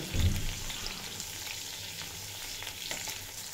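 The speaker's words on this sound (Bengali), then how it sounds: "মিডিয়ামে রেখে পটলগুলো খুব ভালোভাবে ভেজে নেব, যাতে পটল ভালোভাবে কুকও হয়ে যায়।" Pointed gourd (potol) fries in oil over a low-to-medium flame with a continuous soft sizzle and crackle. A dull knock of stirring sounds at the start, and light spatters follow.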